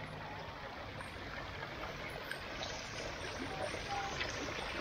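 Running water splashes and rushes in a steady, close, broadband wash, holding at an even level throughout with no voices.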